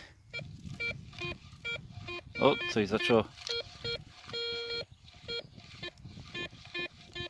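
Garrett Ace 250 metal detector sounding repeated short electronic beep tones in a rhythmic pattern while sweeping over a field, with people talking throughout.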